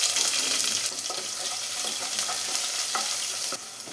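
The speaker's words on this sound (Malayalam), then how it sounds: "ഇതിലോട്ട് ഒരു സവാള സ്ലൈസ് ചെയ്ത് വെച്ചതും കൂടി ചേർത്ത് കൊടുക്കണം" Sliced onion is added to popped mustard seeds in hot coconut oil for a green peas curry, giving a steady close sizzle with occasional stirring clinks and scrapes and no talking.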